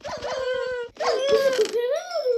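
A dog whimpers and whines in the video game Minecraft, two loud close bursts of high, wavering yelps separated by a brief pause.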